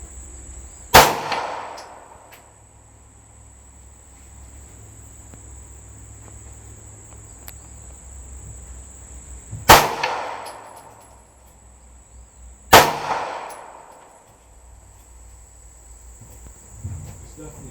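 Three loud handgun shots fired at steel targets outdoors, each a sharp crack followed by a ringing metallic clang, spaced several seconds apart over a constant high insect buzz.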